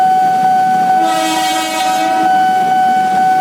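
A commuter train at Kalibata station sounds a long, loud, steady horn close by, holding one sustained tone for several seconds over rumbling rail noise.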